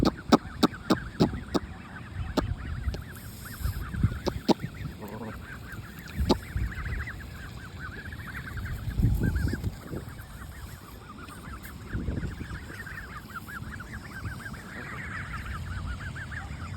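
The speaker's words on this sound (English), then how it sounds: "Hey ducklings, feeding time," Geese and ducks honk and quack steadily at feeding time, a busy, close flock calling over one another with occasional sharper honks and splashing, with no talking.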